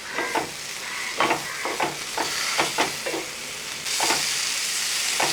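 Two medium tomatoes stirred into masala frying in a pan: a spoon scrapes in repeated, irregular strokes over a constant sizzle, close by and with no voices.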